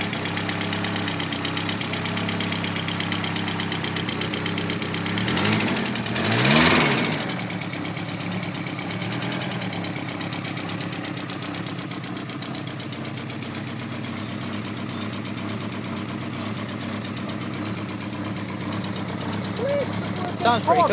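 A VW Golf Mk2 with a draw-through turbo, G60 turbo, split-profile cam and tacked-up leaking exhaust idles close by with a steady, knocking rumble, briefly blipping the throttle once, while people talk over it.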